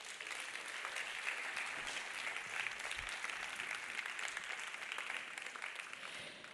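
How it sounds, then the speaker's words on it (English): Audience at a live conference session breaks into a steady round of applause, dense continuous clapping that holds evenly throughout at moderate distance. "we will still make a beautiful round of applause for Chris Johnstone."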